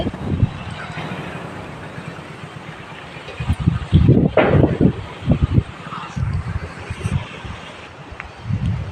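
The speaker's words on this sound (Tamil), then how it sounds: "எப்படி பயங்கர காற்றடிக்குது பாருங்க" Gusty wind roars and buffets the microphone outdoors in Sembodai, Tamil Nadu, rising into strong bursts midway, with rustling in the background and no speech.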